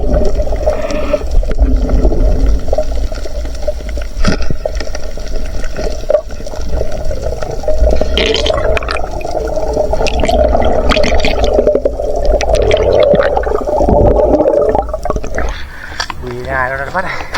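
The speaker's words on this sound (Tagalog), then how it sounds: "Maalon sa may Ginarawayan. Hindi natin mapapasok. Malalaki yung alon." A small fishing boat rides big sea waves off Ginarawayan, with a continuous wash of rough water and splashing against the hull, and people talking over the sound throughout.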